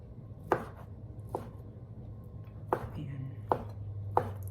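A knife chops cooked pork innards into small pieces for bopis, five sharp, separate thuds on a board at an uneven pace, close and distinct over a faint background hum.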